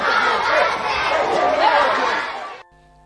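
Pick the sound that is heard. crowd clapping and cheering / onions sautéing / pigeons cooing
crowd clapping and cheering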